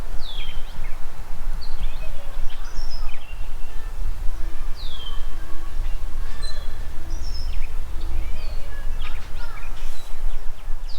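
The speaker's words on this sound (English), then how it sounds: "I'll be quiet, let you listen to the birds." Outdoors, many birds sing and chirp in a steady chorus of short whistled calls and trills, some near and some farther off, over a constant bed of breezy background noise, with no talking.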